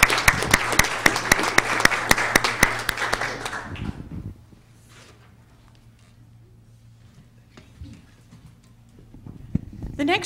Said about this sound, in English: Give her a round of applause and thank you.